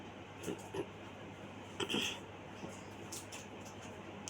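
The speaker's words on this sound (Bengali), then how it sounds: "পটলগুলো দিয়ে দিলাম এবং ভালো করে পটলগুলোকে নাড়াচাড়া করে ভালো করে ভাজতে হবে" Pointed gourd pieces frying in a pan for potol alur korma, stirred with a utensil that gives a few faint clinks and scrapes against the pan over a quiet low sizzle.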